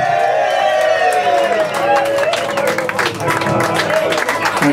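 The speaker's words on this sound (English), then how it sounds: "Give them a massive round of applause." A crowd at a live band show applauds and cheers loudly in a continuous burst, with a voice talking over the clapping and sustained tones ringing through it.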